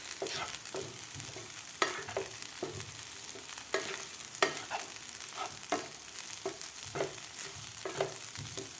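Kurdai and onion are stirred in a frying pan, a steady sizzle running underneath while a spoon scrapes and knocks at an irregular rhythm, close and fairly quiet throughout.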